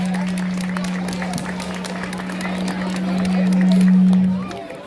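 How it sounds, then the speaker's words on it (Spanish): Audience applause and crowd noise at a nighttime children's coronation ceremony, a steady wash of clapping that swells toward the end, with a constant electrical hum running underneath. "hay que darle un gran aplauso a estas niñas"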